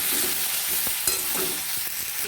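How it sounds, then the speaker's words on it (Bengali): Chopped vegetables, including pointed gourd, fry in a wok with a steady hot sizzle, punctuated by several soft stirring scrapes and knocks. "সবজিগুলো দিয়ে আমি একটু সবজিগুলোকে ভাজা ভাজা করে নেব"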